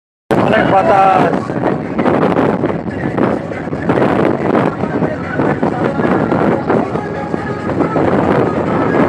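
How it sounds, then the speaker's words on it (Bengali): Strong wind gusts buffet the microphone by the water around a small village surrounded by water and wetland at Patul, Natore, a loud continuous rumbling roar throughout, with people talking over it. "অনেক বাতাস।"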